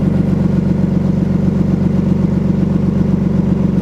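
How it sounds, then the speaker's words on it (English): A BMW E34 sedan idling cold at around 1,000 rpm gives a loud, steady, close mid-pitched engine hum with an even pulsing beat and no talk. "It idles out around 1K when it's cold, and then it drops down to 650."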